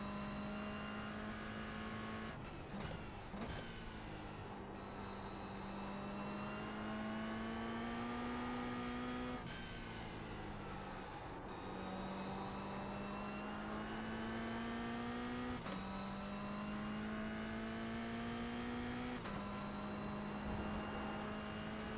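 Toyota GR86 race car engine in iRacing at Okayama circuit, a steady loud in-car drone climbing in pitch through each gear, with brief dips at shifts, running continuously.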